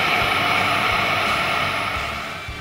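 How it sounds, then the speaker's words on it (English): A radio-controlled F-22 Raptor model jet burning real jet fuel roars steadily and loudly, a continuous turbine whine and rush that fades slightly toward the end, with no voices. "this is the Top Gun, an F-22 Raptor that runs on real jet fuel."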